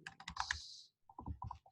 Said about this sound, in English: let me just type something to Denise here.